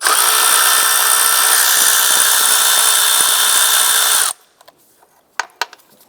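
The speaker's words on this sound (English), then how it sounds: "On the back of the intake here, remove this bolt." A power tool runs steadily for about four seconds, loosening a 10mm bolt on the back of the intake of a 2004-2008 Acura TL, then stops, followed by a few small metallic clicks and taps.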